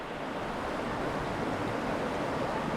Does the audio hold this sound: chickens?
no